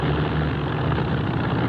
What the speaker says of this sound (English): I don't like the sound of that engine.